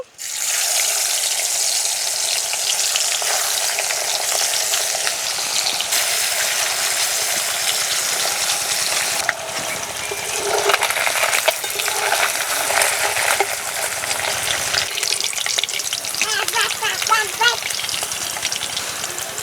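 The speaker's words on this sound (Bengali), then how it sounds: "এবার বাকি মাছগুলোও ভেজে নেব।" Puti fish frying in hot oil in a pan, a constant loud crackling sizzle throughout, with occasional scraping and clinking as the pieces are moved and turned.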